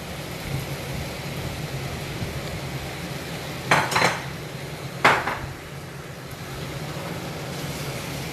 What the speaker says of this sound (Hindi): इनको अच्छे से मिक्स कर लेते हैं इनमें मसाले के साथ